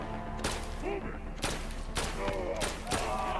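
Gunshots in the PS VR2 game Synapse, several sharp broadband cracks at roughly one-second intervals over game music and ambience, loud and close, one landing as a headshot.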